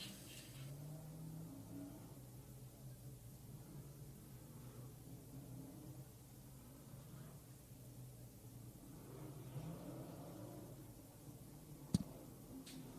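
Modified race cars circling a speedway track, heard as a steady distant engine drone that rises and fades slightly, with a brief sharp click near the end.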